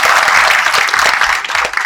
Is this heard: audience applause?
yes